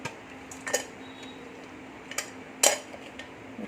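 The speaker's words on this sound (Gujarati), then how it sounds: "આ રીતના એક ચાયની લઈ લીધી છે, એમાં આપણે ચાળી લેવાનું છે બધી." Metal strainer used to sieve mashed drumstick (moringa) pulp in a kitchen, giving a few sparse, sharp metallic clinks and taps against a quiet background.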